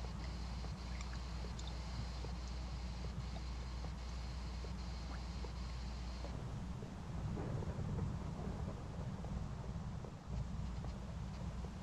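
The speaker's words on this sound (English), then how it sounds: "It's raining. It's annoying." Rain and rumbling thunder in a video game, a constant low roar with steady patter at moderate loudness that swells midway through.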